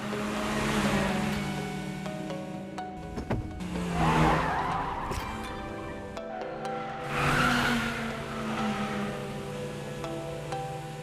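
A supercharged car is driven hard in an anime mountain race, its engine revving loud and close with a steady harmonic whine, rising and falling through shifts with bursts of tyre squeal.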